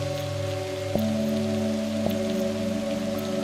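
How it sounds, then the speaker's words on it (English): Pouring rain in Assassin's Creed Shadows, a steady hiss of rainfall on surfaces under a sustained tonal drone, with a couple of sharp clicks along the way. "It's out here in the pouring rain."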